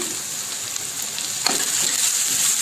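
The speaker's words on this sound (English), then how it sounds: "we are going to cook our onions for about a minute or so" Onions with garlic, ginger and chili paste frying in a pan, a loud, dense, continuous sizzle with a brief stirring scrape near the middle.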